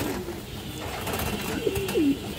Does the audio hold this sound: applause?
no